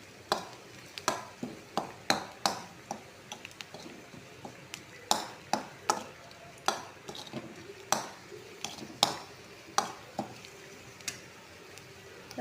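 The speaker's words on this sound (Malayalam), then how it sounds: "ഒരല്പം ഉപ്പും കൂടെ ചേർത്ത് കൊടുത്തിട്ട് നമുക്കതൊന്ന് മിക്സ് ചെയ്യാം" A spoon stirs turmeric, chili powder and salt in a pan for a vella payar thoran, making regular scraping knocks against the metal about once a second over a faint sizzle.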